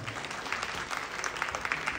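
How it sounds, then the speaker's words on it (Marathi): A short burst of scattered clapping from a small seminar audience, fairly soft and somewhat distant. "जरा जोरदार टाळ्या द्या."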